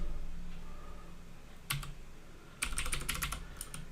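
Keystrokes on a computer keyboard while entering code: a quiet lone click, then a quick burst of several clicks and a few more taps, close and clear with no talking.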